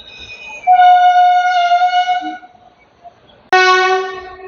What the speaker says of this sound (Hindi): और ये भाई साहब आ रही है बलूरा घाट भटिंडा फरक्का एक्सप्रेस